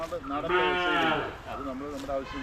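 Native Vechur cows on a small family farm low in a long mooing call, close and fairly loud, with a second shorter moo following; goats are kept nearby.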